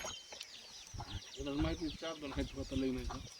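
Free-range village chickens cluck and squawk nearby in a short burst of repeated calls, fairly faint, with some background noise.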